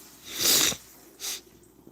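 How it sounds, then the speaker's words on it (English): Two short nasal sniffles from a person nearby, a stronger one followed by a briefer second, with quiet breathing between and no talk. "Sorry, I'm sniffling in your ears."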